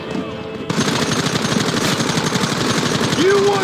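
A shootout in the Red Dead Redemption video game: rapid, continuous gunfire erupts loudly after a brief quieter opening and keeps rattling without pause to the end.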